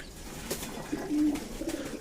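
Pet pigeons in a home loft, including satin pigeons just after bathing, give a soft low coo, with faint scattered bird sounds and light background noise around it.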